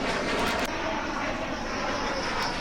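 Rafale fighter jet landing at Ambala, a dense continuous roar of jet engine noise, loud and steady, filling the whole stretch without voices.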